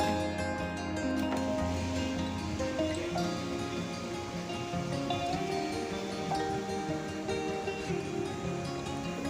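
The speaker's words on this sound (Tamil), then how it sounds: "கிரைண்டரில் அரிசியை போட்டு நல்லா அரைச்சிக்கோங்க." A wet grinder churns soaked rice for batter, producing a steady, dense whirring and sloshing roar that carries on evenly and loudly throughout, with no voices.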